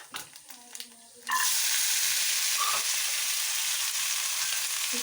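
Vegetables hit hot oil in a pan with a sudden loud burst of sizzling that settles into a steady, close, hissing fry after a few quieter clinks.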